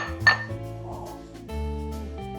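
A ceramic ramekin clinks once, a bright short knock, while being picked up and set down in a home kitchen for a chocolate and walnut bake, under steady background music.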